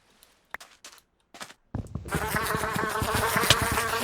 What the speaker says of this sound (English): Don't let me die to a frickin' bee.